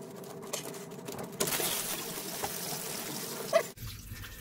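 Water spills from a boat's circulation pump hose into the bilge, trickling and splashing in a low, uneven pour for several seconds.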